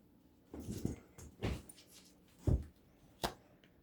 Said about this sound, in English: There's like a dog at my door.